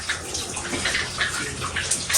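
Water runs from a bathtub tap during a bathroom renovation, a steady loud close rush and splash into the tub with slight fluctuations, continuous throughout.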